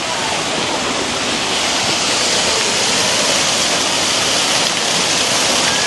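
Loud, steady rush of water being released on the Miami River, a dense continuous roar that holds close and even throughout with no pauses.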